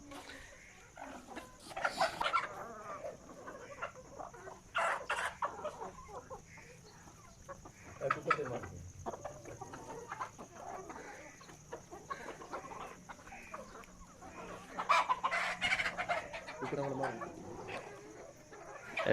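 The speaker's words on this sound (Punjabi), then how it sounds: "ਇਹ ਵੇਖਿਆ ਜੇ ਇਹਨਾਂ ਨੇ ਵਿੱਚ ਮੁਰਗ ਰੱਖੇ ਨੇ" Hens and roosters in a desi-egg poultry farm shed clucking in bursts, fairly close but soft, with a steady hum and quiet talk between calls.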